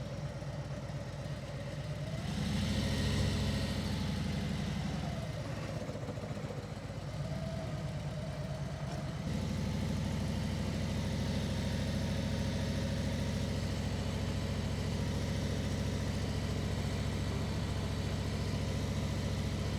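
A motorcycle ridden along a road in New Mexico, its engine a steady mid-pitched drone that swells briefly, then settles into a constant hum with wind rush, close and continuous, with no talking.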